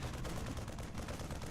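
Marines fire continuous rapid gunfire in a strategy video game, a dense rattling of many shots layered together, heard faintly and steadily throughout.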